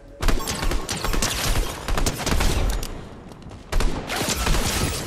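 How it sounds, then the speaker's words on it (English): Rapid bursts of gunfire in Fortnite, a dense, loud volley of shots with mechanical clatter, starting abruptly, thinning out briefly mid-way, then resuming in a second heavy burst. "Oh, we got shots. We got double shots."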